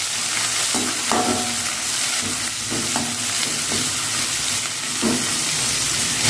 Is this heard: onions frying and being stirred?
yes